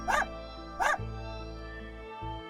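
A small dog wearing a collar barks twice in quick succession outdoors near a house, sharp and close over a steady low hum.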